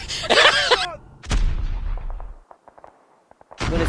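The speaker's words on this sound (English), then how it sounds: "there's literally three people shooting at me" Rapid gunfire in a Call of Duty multiplayer match, with a dense burst of shots up front, another heavy volley, then scattered single shots trailing off before a final loud burst.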